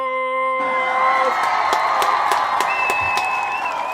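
Crowd at a Kujichagulia toast event breaks into applause and cheering, with whoops and shouts rising over steady clapping; a sustained, fairly loud mass of sound with a tone at the start.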